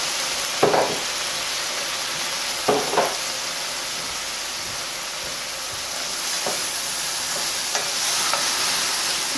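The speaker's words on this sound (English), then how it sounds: "Here's my thawed peas and carrots. We're going to add them in there." Thawed peas and carrots frying in a pan, a steady sizzle with several distinct scraping stirs of a utensil, close and alone without talk.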